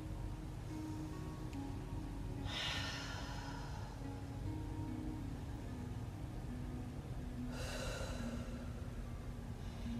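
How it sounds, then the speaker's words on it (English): Two slow, deep breaths during a Pilates plank exercise, each a soft airy exhale a few seconds apart, faint and close over a quiet room hum. "And take a good deep breath."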